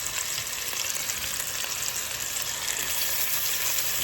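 Beef shanks searing in a pan give off a steady, close, dense sizzle that holds evenly for the whole stretch with no talking.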